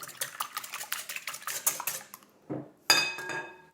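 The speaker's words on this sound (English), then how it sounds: "break some eggs into a large bowl and give them a quick whisk" Eggs being whisked in a large bowl, with a quick run of rhythmic metal-on-bowl clinks and scrapes from the whisk, then a pause, a soft knock and a final ringing clink, close and clear with no voices.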